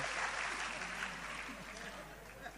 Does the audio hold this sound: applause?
yes